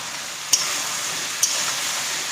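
Turmeric, chilli, coriander powder and salt frying together in a pan, a steady close hiss of sizzling with two brief sharp clinks of a spoon against the pan while stirring.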